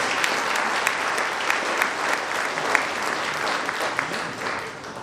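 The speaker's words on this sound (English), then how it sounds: "Give our parents, our families, everybody a rousing round of applause" A graduation crowd applauds for parents and families, loud sustained clapping from many people with a few sharp individual claps standing out, holding steady across the whole stretch.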